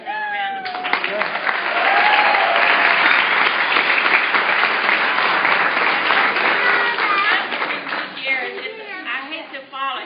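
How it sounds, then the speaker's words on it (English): Sustained applause from an audience at a congressional press event swells in after a moment, holds steady and loud, then tapers toward the end. "Would you give them another round of applause?"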